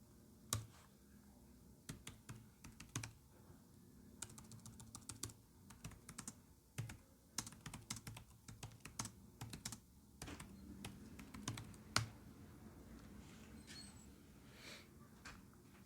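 Computer keyboard being typed on to enter a search, irregular bursts of close, crisp key clicks with scattered louder taps and a mouse click or two, no talking.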